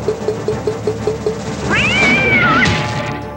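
A cat meows loudly as a thrown projectile in the Williams Medieval Madness pinball game, one drawn-out rising and falling yowl following a quick series of rhythmic mechanical pulses, heard close with no talking.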